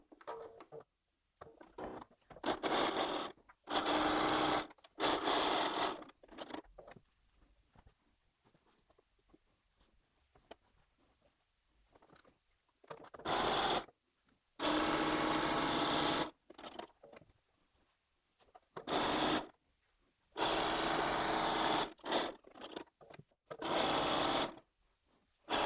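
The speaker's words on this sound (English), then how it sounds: "So I'm just going over to the sewing machine to do that." Bursts of sewing machine stitching quilt fabric strips with a 1/4 inch seam, several runs of a few seconds each separated by quiet pauses, loud and close.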